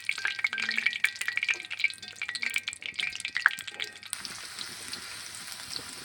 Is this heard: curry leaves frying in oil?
yes